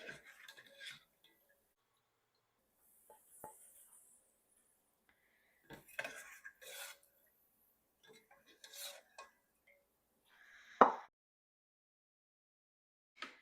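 Metal utensils scrape and clink against a frying pan while lifting out fried, toasty garden produce, in short scattered bursts with quiet gaps, including one sharper clank near the end.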